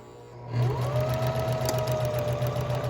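A sewing machine starts up and stitches steadily with a loud, close mechanical whir and rapid rhythmic needle knocking, running continuously after a brief quiet start, no speech.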